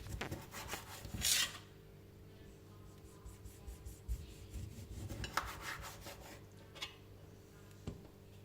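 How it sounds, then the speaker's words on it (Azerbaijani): A knife thinly slicing tomatoes on a board: close, soft repeated cutting strokes with a few louder scraping passes, quiet and without talk. "Pomidorumuzu nazik-nazik doğrayıram"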